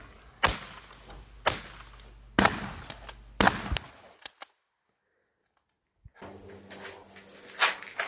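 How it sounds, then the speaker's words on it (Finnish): Handgun shots at an outdoor shooting range, four loud sharp reports about a second apart followed by a brief quiet gap and then more distant crackling activity, no talking. "Ja sitten vielä vähän tämmöistä räiskimistä tähän."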